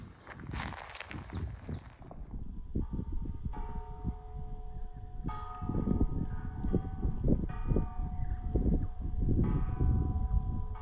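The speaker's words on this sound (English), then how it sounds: "Bye bye Dharma bell." A Dharma bell at a Buddhist temple rings out with sustained resonant tones, struck repeatedly over about eight seconds amid steady outdoor noise and footsteps, after an earlier patch of rustling.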